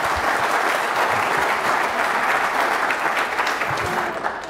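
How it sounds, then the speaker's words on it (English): An audience at an event's introductory remarks breaks into a big round of applause, dense, even clapping throughout with only scattered voices. "big round of applause."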